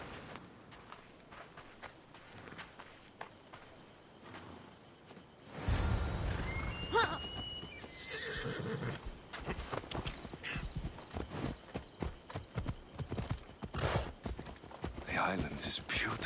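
Horses gallop in Assassin's Creed Odyssey, with steady, close hoofbeats that start abruptly and continue under occasional talk.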